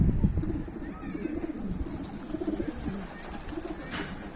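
Domestic pigeons in a home loft coo softly and steadily, a low wavering murmur beneath a constant hiss of background noise.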